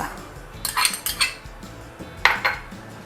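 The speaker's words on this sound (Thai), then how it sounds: "ใส่กระเทียมสับลงไปค่ะ" Minced garlic goes into a pot coated with about a tablespoon of vegetable oil and is stirred with a metal utensil, giving a series of sharp clinks and scrapes against the pot that come in uneven bursts, fairly close, with no talking.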